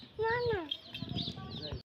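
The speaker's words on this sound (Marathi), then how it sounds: "हो ही बघ कोंबडी बस खाली" A hen clucks close by with a few short, bright calls, while a person talks softly nearby.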